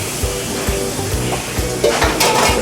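Onion added to butter in a pan sizzles steadily at a gentle, low heat, with faint stirring and soft scraping taps close by.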